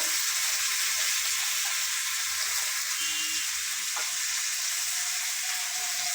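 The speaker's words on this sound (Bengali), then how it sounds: "এবার চিকেনটা দিয়ে দিব, দিচ্ছি ধীরে ধীরে" Raw chicken pieces hit hot oil in a pan while cooking Bengali chicken kasha, giving a steady, loud sizzle and crackle that fills the whole stretch with no voices.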